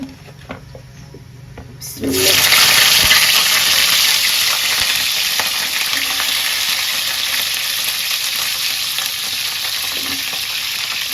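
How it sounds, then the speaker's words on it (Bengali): Slit okra hits a hot pan and starts frying in a village kitchen, a loud sizzle bursting in after two seconds of quiet and then settling into a steady hiss with faint stirring. "ঢেঁড়সগুলো আগে বাজিয়ে নেই।"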